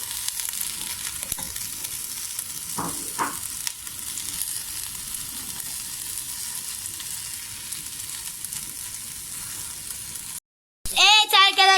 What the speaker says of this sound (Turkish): Şimdi nohutumuzu atıyoruz.